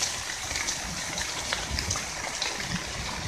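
Spring water trickling out of tree roots onto the ground among buritirana palms, a soft steady wash of running water, faint and continuous with a few small splashes and no voices.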